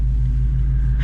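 Steady low, loud engine and exhaust rumble from a 2018 Ford Mustang, droning continuously up close with no change in pitch.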